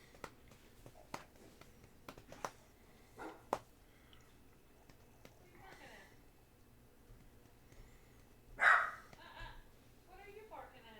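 A pet dog indoors gives a few short, fairly faint barks and yips spread over several seconds, followed by one louder bark near the end, with someone talking quietly around them.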